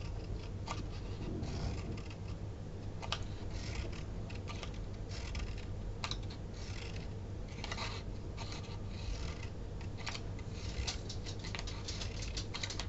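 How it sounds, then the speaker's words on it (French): Scissors snip through strips of paper for a handmade paper pompom, a steady run of small crisp cuts and rustles repeating close by throughout, with no voice over them. "Donc vous coupez des bandes,"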